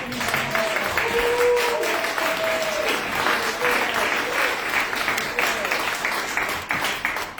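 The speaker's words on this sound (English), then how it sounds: "can we give a round of applause to Bonita and her staff?" Applause for Bonita and her staff at a Denver City Council budget retreat, steady clapping from a room of people lasting several seconds with a faint murmur of voices underneath.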